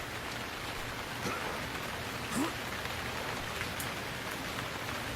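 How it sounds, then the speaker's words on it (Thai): Steady rain falls in the survival video game Stranded Deep, a dense, even hiss of drops on surfaces with no break throughout. "แล้วผมขอตัดคลิปไปตอนที่ฝนหยุดตกก่อนแล้วกันนะครับ"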